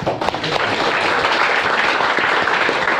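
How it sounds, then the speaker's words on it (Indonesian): An audience at a farewell event for departing infrastructure staff breaks into steady, dense applause that fills the space evenly from start to finish. "tepuk tangan"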